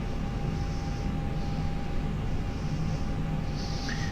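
Airbus A320 jet engines spooling at takeoff power on the runway in a flight simulator, a steady dense roar with a faint whine, fairly quiet and unbroken throughout.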